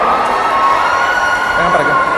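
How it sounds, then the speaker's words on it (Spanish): An audience at a talk cheers and shouts loudly and continuously, a dense crowd roar with whoops, with no clear separate claps. "Dale un aplauso, por favor, para que se anime."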